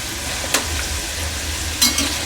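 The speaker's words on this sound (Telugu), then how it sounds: "మనం మంచి కలర్ వచ్చేంత వరకు వేపుకోవాలి వీటిని" Masala peanuts frying in a pan, a soft continuous sizzle with two sharp stirring scrapes, no voices.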